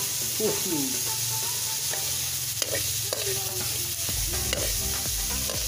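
Shrimp stir-cooked in a hot pan for halabos na hipon, sizzling steadily while a utensil scrapes and stirs in repeated clattering strokes, close and clear with no talk.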